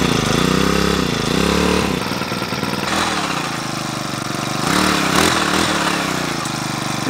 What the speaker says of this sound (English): The sound of an engine